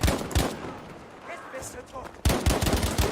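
Gunfire in the video game Battlefield 5: rapid bursts of loud automatic shots at the start and again near the end, with quieter game sounds between them.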